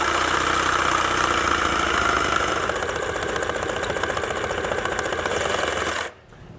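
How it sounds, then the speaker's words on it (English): Jigsaw fitted with a fine tooth blade cutting through the plastic front fascia grille of a 2014 Volkswagen Jetta, a loud, steady buzzing rasp close by that stops abruptly near the end. "We have a jigsaw with a fine tooth blade on it"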